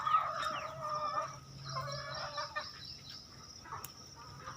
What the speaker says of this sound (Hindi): ये देखें हमारे फार्म के बाहर भी फ्री लैंडर हैं हमारी मुर्गियाँ